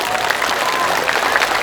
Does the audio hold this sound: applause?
yes